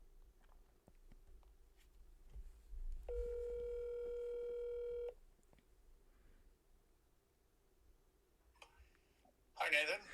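An outgoing telephone call plays a single steady electronic tone lasting about two seconds, with faint clicks and handling noise around it and a brief louder burst at the end.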